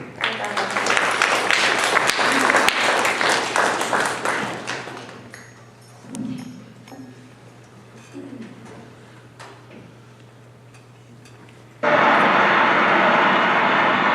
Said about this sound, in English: Ladies and gentlemen, please give a round of applause for Emperor Hirohito.